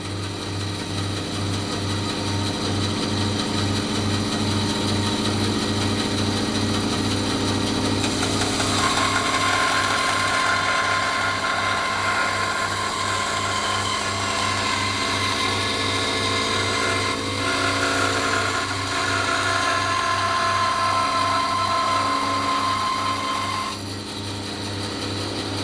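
A Laguna 1412 bandsaw runs a test cut through wood in a workshop, a steady motor hum with a rhythmic pulsing beat under a rising whine as the blade works through the piece, with no talking.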